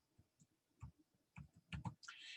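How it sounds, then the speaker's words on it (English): Typing on a computer keyboard during live futures day trading, scattered soft key clicks building to a quicker cluster of taps, quiet and close, with no talk. "And why am I typing this"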